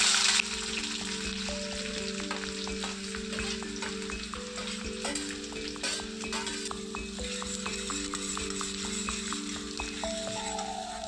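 Cardamom, cinnamon, bay leaf and chopped onion frying in oil for chicken kalo bhuna, a steady close sizzle with crackles and stirring scrapes, a pan clatter at the start and music playing underneath.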